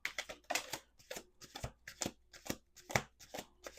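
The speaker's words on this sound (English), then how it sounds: "Let's do 1 last shuffle." Cards being riffled and shuffled, a run of quick crisp flutters and snaps repeating several times close by, with no talking.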